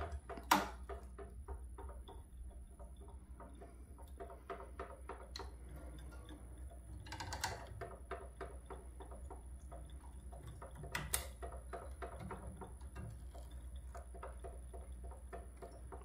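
A cheap shoe patcher with a servo motor stitches two pieces of 10-ounce veg-tan leather at its slowest speed, giving an even mechanical ticking close by with a couple of louder knocks and no talking.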